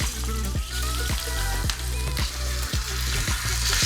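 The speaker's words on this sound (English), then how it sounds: "I'm just going to heat up some oil and I'm going to cook off a small piece of barramundi" A small piece of seasoned barramundi fries skin-side down in hot oil, giving a loud, steady sizzle with a rapid rhythmic bubbling and popping pulse beneath it, and no one speaking.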